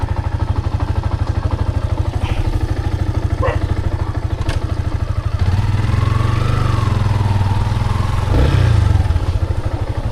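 A motorcycle fitted with a stock exhaust again thumps along with a loud, steady, rapid engine pulse, then revs up and grows louder partway through before settling back down.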